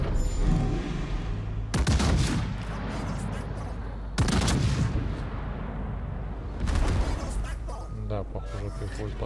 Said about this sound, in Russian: Отличный залп.